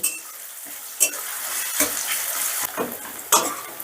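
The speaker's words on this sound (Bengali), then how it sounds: "এবার পেঁয়াজটাকে আমি হালকা লাল করে ভেজে নেব" Finely chopped onions fry in a pan with a bright, close sizzle, broken by several sharp scrapes and clinks of a spatula stirring them around.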